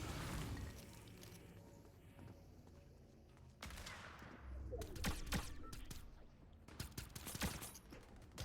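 Gunfire in a multiplayer video game starts as a muffled background clatter, then breaks into sharp, close shots and rapid bursts with scattered impacts.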